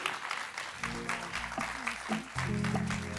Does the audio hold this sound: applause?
yes